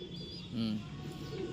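Soft, low cooing from pigeons, a brief rounded call rising out of a steady hum of background noise.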